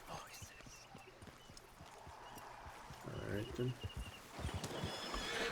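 Horse hooves clip-clop in a video game as a rider sets off, with whinnies mixed in; the steady hoofbeats run under nearby game sounds and spoken commentary, growing louder in the second half.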